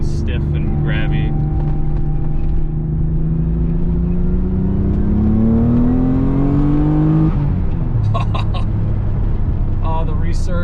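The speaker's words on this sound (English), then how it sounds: "The blow off is so quick and so like sharp, but you know it's there." A Nissan 300ZX Z32 twin turbo accelerating through the gears, engine note rising steadily, then a quick sharp blow-off valve hiss at the shift before the revs drop. The sound is loud, recorded inside the car, with a person talking over it.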